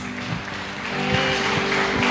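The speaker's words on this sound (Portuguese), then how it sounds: "Uma salva de palmas para Jesus" A church congregation at a Sunday family service applauding, a dense, continuous wash of clapping that swells slightly louder partway through, with no talk.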